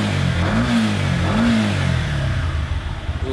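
A 2019 Benelli 502C motorcycle engine revs up toward 7,000 RPM, a loud, close mechanical drone rising in pitch and then easing into a rougher, pulsing note.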